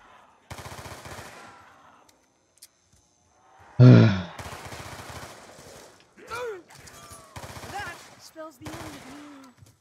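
Gunfire in Call of Duty Black Ops 2 Zombies: a single loud, sharp burst near the middle, set among quieter game noise and people talking.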